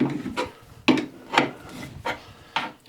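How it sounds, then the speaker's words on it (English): A thread-cutting tap is wound by hand through metal held in a vise, giving close, dry rasping scrapes in repeated strokes about every half second, each with a sharp onset and quick fade, with no talking. "It's well started there now, so we'll finish the thread off in the vise."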